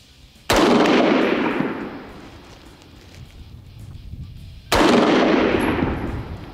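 Two loud, sharp rifle shots from a .22 Nosler at an outdoor 200-yard range, several seconds apart, each followed by a long rolling echo over light wind noise.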